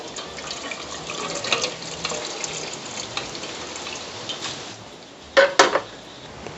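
Strained water from kitchen cooking pours steadily into a vessel, a soft continuous trickle and splash, ending with a few clinks of the pot or utensil near the close.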